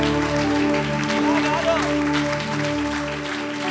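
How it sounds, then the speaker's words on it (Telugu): A church congregation claps during a sermon, with a scattered round of applause rising under the preacher's loud amplified voice and crowd noise. "చప్పట్లు కొట్టండి అన్నప్పుడు చప్పట్లు కొట్టండి అమ్మా, గట్టిగా"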